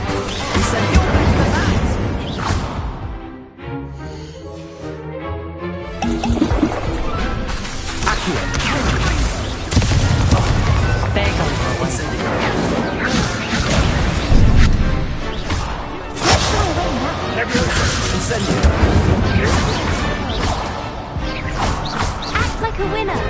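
An Incendio fire spell is cast in the Hogwarts video game amid a loud, dense stretch of combat, with crashes, whooshes and impacts crowding together along with some speech.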